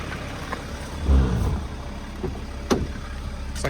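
A BMW X5 with a 3.0L turbo diesel engine and a newly replaced cam chain is driven, giving a low, steady engine rumble broken by a few soft thumps and knocks.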